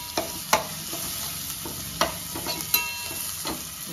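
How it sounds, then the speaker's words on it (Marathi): Mutton masala sautés in a pan, a steady sizzle and frying hiss with a spoon stirring and scraping in periodic clinks, close and fairly loud, with no talk. "थोडं परतून घ्या."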